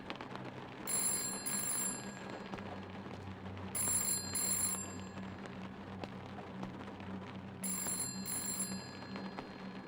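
A telephone rings three times in the horror game Chasing Static, each ring a bright, trilling bell burst evenly spaced over a steady rain-like hiss, fairly faint and heard without talk.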